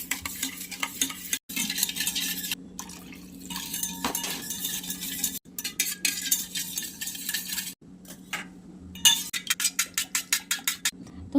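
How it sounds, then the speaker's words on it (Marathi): A spoon stirs dhokla batter ingredients in a bowl, with fresh lemon juice squeezed in, making repeated close scraping and clinking strokes in quick uneven bursts with short pauses between. "आपण हे सगळं साहित्य नाही का हलवून घेऊयात मस्त"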